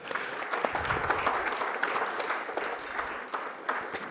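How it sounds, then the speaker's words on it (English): An audience at a credit summit session applauds to welcome the chief guest, a dense, steady wash of clapping from a large crowd that continues evenly for several seconds. "So I think he deserves a round of applause."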